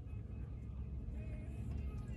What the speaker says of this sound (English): Oh, there's the buses.